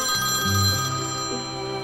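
A telephone rings with a steady electronic ringtone, its pitch shifting in a repeating pattern, clear and close, with no talking.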